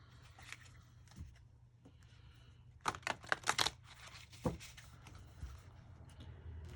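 Tarot cards being shuffled, a quick flurry of riffling snaps in the middle with softer handling rustles around it, close and fairly quiet.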